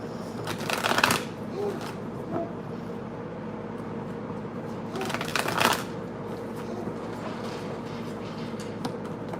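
Tarot cards being shuffled close up, with two loud riffling bursts several seconds apart over a steady background of softer card handling and rustling.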